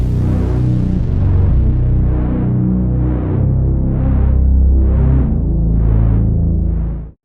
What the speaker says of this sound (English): a dark bass and then also a lead.